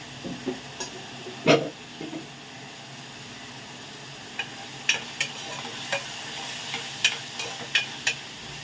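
Onions frying in a pan, a soft sizzle under sharp intermittent clinks and scrapes of stirring, close and quiet, with no talk.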